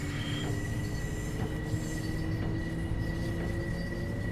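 Passenger train running toward Long Beach in Train Sim World 6, a steady rumbling roll with faint wheel clatter and a constant tonal whine, continuous and fairly loud with no voices.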